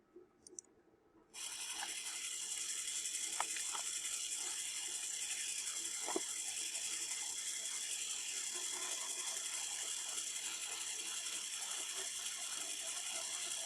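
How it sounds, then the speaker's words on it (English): A small VEX robot motor starts after a couple of faint clicks and then runs with a steady, quiet whirring, ratchet-like gear buzz, close by, with occasional light ticks and no talking. "Motor's going."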